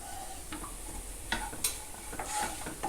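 A spoon stirs a spiced meat filling with pepper powder in a pan, soft scraping and light metallic taps over a low background sizzle, quiet and close.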